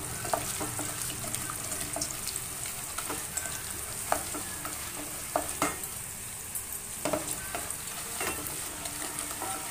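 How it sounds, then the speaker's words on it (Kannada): Chana dal roasting in a pan for vegetable upma gives a steady, close sizzle throughout, broken by frequent light scrapes and clicks of stirring, with no talking. "ಸ್ವಲ್ಪ ಇದೆಲ್ಲ ಒಂಚೂರು ರೋಸ್ಟ್ ಆಗೋವರೆಗೂ ಒಂಚೂರು ಫ್ರೈ ಮಾಡ್ಕೊಳ್ಳೋಣ"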